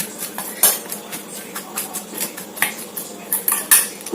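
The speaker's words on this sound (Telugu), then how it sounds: "బౌల్ అయితే స్పూన్ అయితే తీసేసుకున్నాం కదా, నీట్గా కలిపేసుకుందాం" A spoon clinks and scrapes around a bowl as ingredients are mixed, irregular light taps and rattles close by with no talking.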